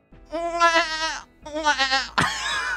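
A person imitating a goat, giving three loud, wavering nasal bleats in quick succession, the last one harsher and cut short, close to the microphone.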